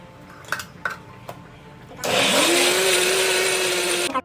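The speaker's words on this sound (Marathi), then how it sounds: "मिक्सरला वाटते." A mixer grinder whirs loudly and steadily as it grinds onion and tomato into masala for prawn biryani. A few light kitchen knocks come before it starts, and it cuts off sharply at the end.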